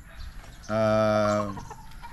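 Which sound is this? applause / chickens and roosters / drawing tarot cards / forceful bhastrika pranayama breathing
chickens and roosters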